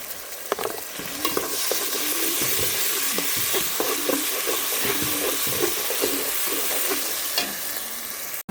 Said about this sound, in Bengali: আদা রসুন ভাজা হয়ে গেছে